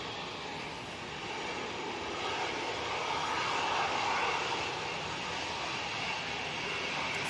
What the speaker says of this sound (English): There is an EasyJet about to come on right in front of us